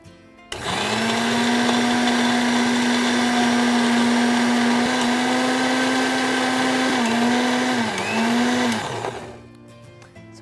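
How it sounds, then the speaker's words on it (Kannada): A kitchen mixer grinder blends coconut chutney with curry leaves, a loud steady motor whine lasting about eight seconds, dipping briefly in pitch near the end before spinning down, with no talking. "ಇದನ್ನ ಗ್ರೈಂಡ್ ಮಾಡ್ಕೊಳ್ಳೋಣ"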